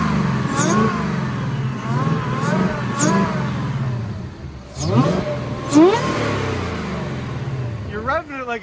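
A 2024 Mustang GT engine with a Whipple supercharger and competition air box revs up and falls back several times while people talk over it close by.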